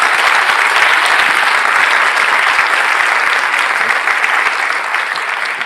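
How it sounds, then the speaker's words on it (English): Loud, dense applause from a forum audience at the Dubai Future Forum, many hands clapping steadily and evenly throughout, easing slightly toward the close. "a big round of applause for everyone that came, every futurist that came here"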